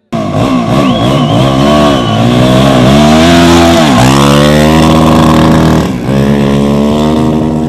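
Racing motorcycles roar loudly and steadily during a mountain motorsport competition, engines revving and shifting pitch as they pass close by with no talking.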